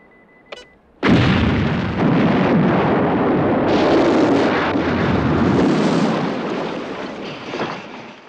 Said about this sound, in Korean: 미리 설치해둔 폭탄을 폭발시켜 지하 기지와 함께 괴물 무리를 모조리 소탕합니다